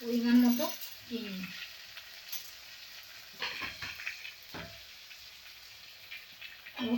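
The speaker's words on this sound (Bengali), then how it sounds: "এবার আমি খুব ভালো করে কষিয়ে নেব" Spices with ground cumin and sugar sautéed in a pan for a potato dum dish, a steady soft sizzle broken by a few louder stirring scrapes, close by, with no one speaking.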